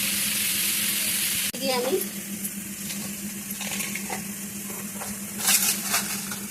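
Okra frying in a little oil with salt in a home kitchen: a loud, steady sizzle that drops abruptly, then continues more softly under a brief spoken word and light stirring.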